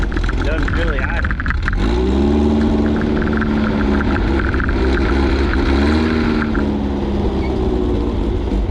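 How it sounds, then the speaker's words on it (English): A carbureted engine revving unevenly, rising and sagging without settling into a steady idle, loud and close throughout. "Need to figure out my idle on this carburetor. Might just need a new one. Doesn't really idle."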